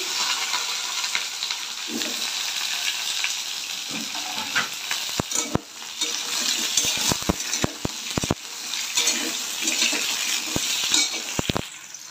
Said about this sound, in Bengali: এবার আলু কুমড়ো একসঙ্গে দিয়ে দিচ্ছি